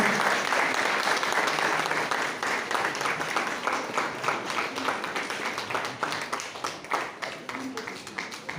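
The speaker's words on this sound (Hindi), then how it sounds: "तालियों से जोरदार स्वागत करें" At an event where an honoree is being felicitated, the audience gives a warm welcome with sustained applause, a fairly close, steady clapping that thins out a little toward the end.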